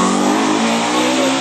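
A BMW M3 DTM race car engine roars loud and close, a dense continuous mechanical drone held steady at high revs, with no voices over it.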